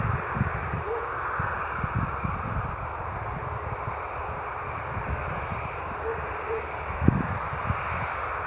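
A Ryanair airliner at Bristol Airport gives a broad, steady engine roar at a distance, with a few faint knocks and a brief sharper sound near the end.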